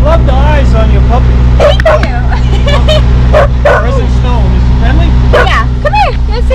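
A puppy yips, barks and whimpers in short bursts over a loud, steady engine hum inside a car during a snowstorm drive, with people talking nearby.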